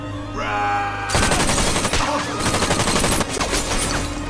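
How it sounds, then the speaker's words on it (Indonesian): A film scene with a sudden sustained burst of rapid gunfire that erupts after a second of music and continues densely, loud and close, over a score. "Luke tiba-tiba muncul dan langsung memberondongkan peluru ke arah Red"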